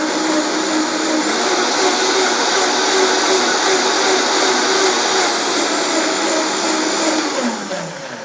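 A kitchen blender purees soup, a loud continuous motor whine with a grinding roar that holds steady for several seconds and then eases off toward the end.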